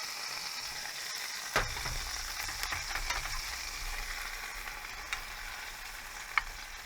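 Steak and potatoes sizzle loudly in a pan with beef juice, seasoning and sesame oil, a steady close frying hiss broken by a few stirring clinks.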